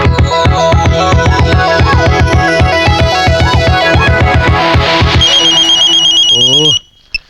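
A loud electronic phone ringtone plays a repeating melodic pattern of rapid beeps for several seconds, shifting to a higher warble before stopping abruptly.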